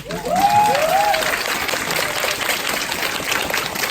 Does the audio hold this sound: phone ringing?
no